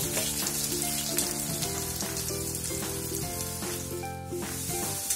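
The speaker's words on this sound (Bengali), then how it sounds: "আলুটা ভাজা হোক।" Potatoes rubbed with salt and turmeric fry in a pan of oil, giving a steady, close sizzle that runs under background music throughout.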